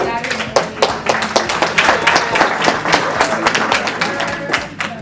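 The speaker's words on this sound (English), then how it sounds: "just give a round of applause for coming out on a Saturday morning" An audience at a cannabis business workshop in New Jersey applauding, with dense, steady clapping from a room of people, fairly loud and close, that tapers slightly toward the end.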